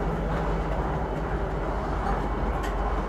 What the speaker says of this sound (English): it's still cool to look out and see another train running right next to you